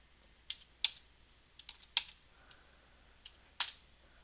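Computer keyboard keys click in short irregular bursts as a captcha is typed in, a handful of close, crisp keystrokes scattered over a quiet room background.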